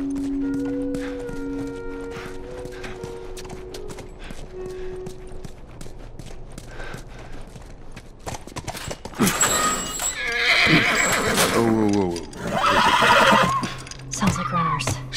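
A horse in The Last of Us game neighs and clip-clops on hooves, starting with soft steps under a musical backdrop before loud whinnies and snorts burst out nearby, with speech now and then.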